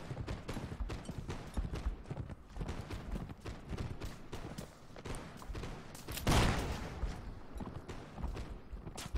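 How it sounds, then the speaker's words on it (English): Enemy gunfire in the historical battle game Mount & Blade: Fire and Sword: a scattered volley of close and distant musket shots under hoofbeats and battle clatter, with one louder near blast about two-thirds through. "Oh, someone is firing at me."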